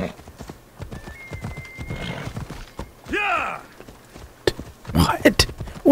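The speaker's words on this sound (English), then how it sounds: "Come here, horsey." In Assassin's Creed Origins, a horse lets out a loud whinny mid-clip among steady clip-clopping hooves and sharp hoof thuds, close up, with a voice speaking briefly early on.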